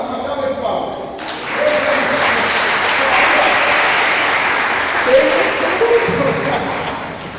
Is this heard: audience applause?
yes